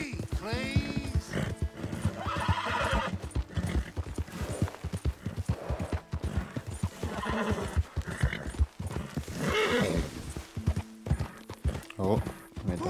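A horse in Red Dead Redemption 2 makes rapid clip-clopping hoofbeats and a loud neigh near the start, while someone talks over the gameplay.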